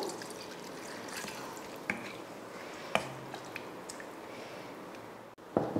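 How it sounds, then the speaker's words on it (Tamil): Water being poured into bitter gourd kulambu simmering in a pan, a soft continuous liquid trickle with a few faint drips and clinks, close and quiet with no talking. "அடுத்து குழம்புக்கு தேவையான அளவுக்கு தண்ணி சேர்த்துருவோம்."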